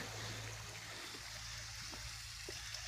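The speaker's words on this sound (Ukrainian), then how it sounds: "І з гір тече водичка." A small mountain stream spills down as a little waterfall near Vorokhta, a soft steady trickle and rush of water heard faintly from a short distance, alone without voices.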